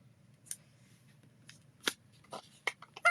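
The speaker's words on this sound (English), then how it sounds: "I'm just going to tape all my layers together" Tape pulled and pressed as craft layers are taped together, giving a few short, sharp crinkly tearing bursts over a faint low hum, close and fairly quiet.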